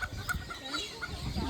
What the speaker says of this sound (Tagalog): manok na pula.